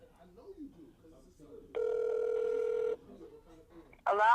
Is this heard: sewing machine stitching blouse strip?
no